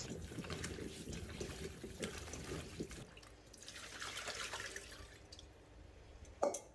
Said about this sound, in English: Give them a rinse to wash off any remaining debris.